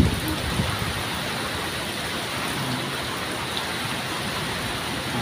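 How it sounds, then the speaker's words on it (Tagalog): Typhoon wind and rain in Camarines Sur form a dense, steady hiss, continuous and fairly distant without clear gusts. "napakatindi ng bagyo na to."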